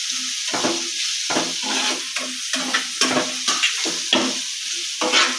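Ingredients for prawn gravy are stirred and fried in a pan, with repeated scraping strokes in an uneven rhythm over a steady sizzle. The sound is close and fairly loud, and no one speaks.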